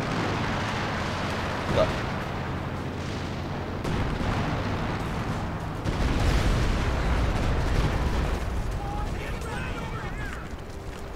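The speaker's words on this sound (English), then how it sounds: "Airstrikes going in from Sternvik Strike, holding back the infantry" Airstrike explosions land in a Company of Heroes 2 battle on the Port of Hamburg map, a steady rumbling barrage of booms over dense battle noise, with a voice speaking briefly.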